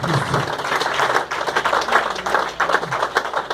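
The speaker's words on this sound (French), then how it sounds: "Now we want to clap for the Lord Jesus Christ." Church congregation clapping for Jesus Christ during a bilingual French-English service at Restoration Church, a dense, steady burst of many hands applauding together, moderately loud and continuous without pause.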